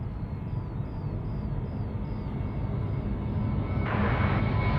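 A Jetstar airliner departs a runway at Sydney Airport, its jet engines roaring as a steady low rumble that grows louder toward the end, heard from a distance.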